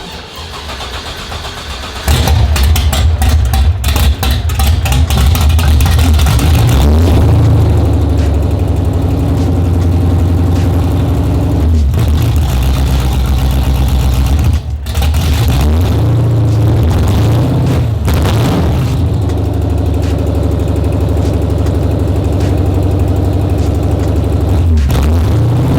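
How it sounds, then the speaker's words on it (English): A car engine with its Y pipe and entire exhaust removed cranks, fires and runs loud and raw, a steady harsh idle with a few blips of revving throughout, no voices. "I kind of want to do a startup and see how she sounds without any exhaust"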